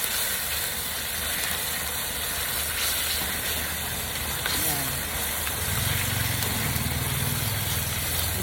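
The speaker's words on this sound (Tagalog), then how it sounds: "Ipapabrown ko lang yan." Sliced bitter gourd (ampalaya) browning in a pan gives a steady, close, hissing sizzle that continues without a break, while a voice talks over it.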